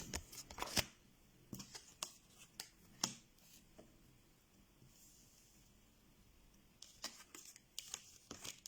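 Tarot cards are turned over and handled on a table, giving soft papery slides, flicks and crisp snaps in uneven bursts, with a quieter pause in the middle before the shuffling and flipping resumes.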